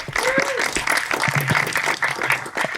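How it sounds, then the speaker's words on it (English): An audience at a real estate agent panel in the Bay Area applauds steadily at moderate volume, with clapping under a speaking voice throughout. "Give a big round of applause for the listing legends."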